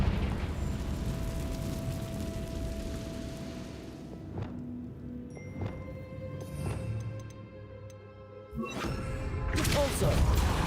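Confringo fire spell cast in Hogwarts Legacy, with several sharp blasts spread through the scene, the last a loud burst near the end, all over a steady background ambience.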